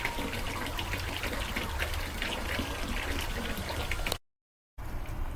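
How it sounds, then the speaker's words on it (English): A new water pump pushes water through an intake hose, producing a steady close rushing and gurgling splash that runs unbroken, cuts out briefly near the end, then resumes. "this is at least working and it's pumping water."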